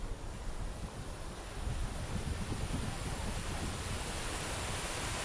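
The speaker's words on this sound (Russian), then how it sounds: "И водопадик." Small, turbulent glacier-fed waterfall on a mountain slope near a glacier by Lake Vieux-Emosson, heard as a steady, dense broadband rush of falling water with some wind, continuous and fairly close throughout.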